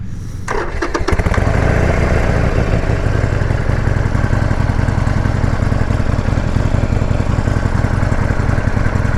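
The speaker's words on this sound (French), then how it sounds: "Franchement le moteur de la CB500 est bien optimisé sur celle-ci" A Honda CMX 500 Rebel S motorcycle engine fires up and settles into a loud, steady, close running throb with an even pulsing rhythm, alone without talk.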